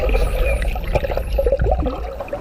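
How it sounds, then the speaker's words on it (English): Dolphins vocalizing underwater at Midway, thin high whistles rising and falling over a steady wash of bubbling, rushing water. "That's the sound of dolphins talking."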